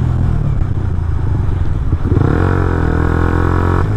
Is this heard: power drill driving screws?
no